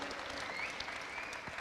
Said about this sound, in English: I hear a round of applause there